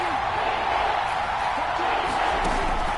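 Crowd noise in a video game American football stadium, a steady, loud roar that rises slightly, with a commentator talking over it.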